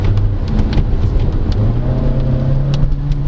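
A 2023 Changan CS35 Plus Luxe crossover accelerates hard, its automatic gearbox in manual mode upshifting as the engine drone climbs steadily in pitch under loud road and wind noise.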